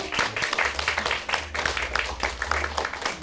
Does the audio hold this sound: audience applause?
yes